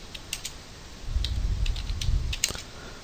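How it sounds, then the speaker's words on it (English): Typing on a computer keyboard during a software tutorial: a few sparse, light key clicks over a low background rumble, close and quiet, with no talking. "I'm just typing that in real quick"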